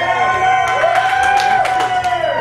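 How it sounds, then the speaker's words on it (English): Small crowd at a live accordion rock show clapping and cheering briefly, whoops and shouts over a sustained tone, close and fairly loud. "Thank you for the clap."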